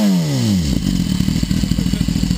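Aprilia RSV4 motorcycle engine revving loudly up close, a falling rev sweep that settles into a rapid, rough, pulsing idle-like burble with clattering, no talk over it.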